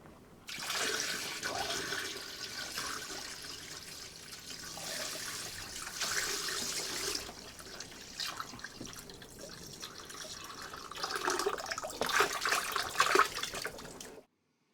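About 5 litres of derusting solution pours into a container, a close, splashing liquid stream that swells and eases in bursts before stopping abruptly.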